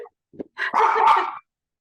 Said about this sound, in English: my dog's chiming in because she totally agrees with you